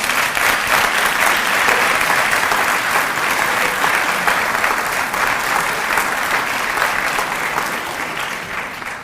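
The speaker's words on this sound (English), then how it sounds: "it makes me very happy when you applaud my Minister of Economy" An audience at a Stanford University presentation applauds steadily, a dense continuous clapping that stays loud throughout and fades only slightly toward the end, with no voices rising above it.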